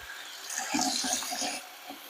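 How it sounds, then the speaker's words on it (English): Cold tap water runs briefly over a piece of homemade replacement foam for a Kenner Star Wars playset, giving a soft hissing splash for a second or so before it cuts off. "Now I'm going to run some cold water over it again"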